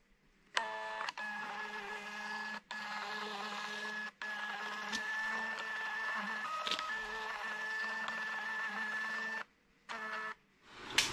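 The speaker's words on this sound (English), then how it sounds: "I'm just going to print these out now on a Bluetooth printer." A Bluetooth label printer runs in a steady, continuous electronic whir with a faint high whine, pausing briefly a few times, then stopping and starting again near the end; no talking.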